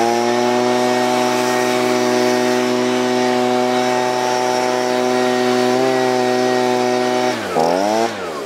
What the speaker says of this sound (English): another thing leaf blowers are good for